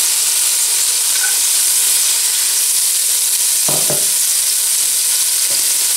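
Chopped shallot, garlic and parsley sauté in a pot for a seafood chorba, giving a loud, steady close-up sizzle broken by a couple of brief utensil knocks.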